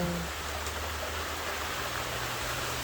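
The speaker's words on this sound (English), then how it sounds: "Oh, it's raining." Continuous rain, a dense even hiss of falling drops that holds steady throughout, with no voices.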